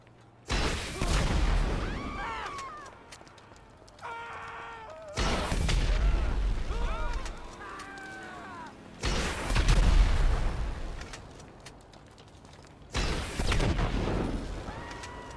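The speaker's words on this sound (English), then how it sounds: "Report an explosion on Boulevard Del Perro in Rockford Hills." Explosions in GTA 5, four separate heavy booming blasts spaced a few seconds apart, each followed by a crackling, rumbling tail with brief tonal game sounds between, loud and close.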